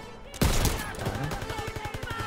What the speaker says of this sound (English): Oh, the sniper is nice against NPCs.